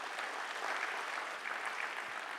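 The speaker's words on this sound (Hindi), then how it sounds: "ताली बजा दें प्लीज।" Audience applause at a leadership lecture session, a soft, even patter of many hands clapping, fairly distant and faint, lasting a couple of seconds.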